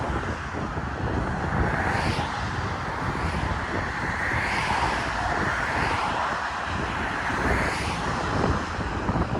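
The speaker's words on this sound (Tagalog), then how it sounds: "Malakas ang hangin, naririnig mo." Strong wind roars and buffets steadily against the microphone, a dense rumbling rush with gusty swells throughout.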